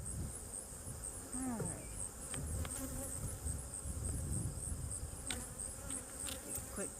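Honeybees buzz in a dense, continuous hum around an open beehive during a hive check, faint but steady, with a person briefly speaking nearby.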